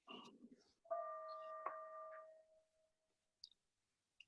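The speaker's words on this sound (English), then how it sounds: "just rang a bell in response" A small bell struck once, a clear sustained ring with steady harmonic tones that decays over about two seconds in a quiet room, with brief murmurs before and a couple of faint clicks after.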